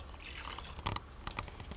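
Plain water poured into a pan of strained, rinsed beans, heard as a few soft splashes and drips, quiet and brief, with no talking over it.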